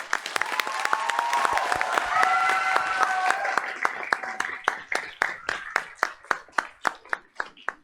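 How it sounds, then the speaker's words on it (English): At a Board of Education meeting, an audience applauds the students with a full burst of clapping and murmuring voices, which thins into scattered individual claps before stopping. "Let's give all those students a round of applause."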